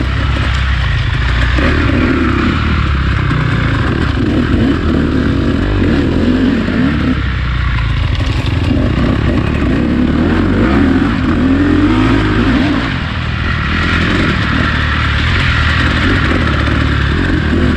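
Dirt bike engines, a 2-stroke KTM and a 4-stroke Honda CRF, roar continuously through off-road riding, loud and close with rising and falling revs and rattling clatter.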